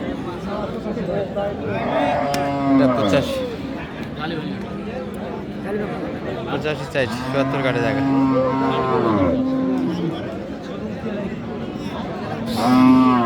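Meat cattle at Aftabganj haat in Dinajpur let out several drawn-out moos, spaced across the stretch, over constant bargaining voices and the busy murmur of a crowded livestock market.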